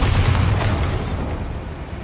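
A loud, sustained rumbling blast with crackling bursts, a game-style magical explosion filling the space without any talk.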